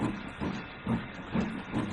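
Steam locomotive cab ambience inside a simulated C&O engine in Trainz 2019, with a steady hiss and a low rumbling chuff pulsing in a regular rhythm roughly twice a second, close and moderately loud with no talk.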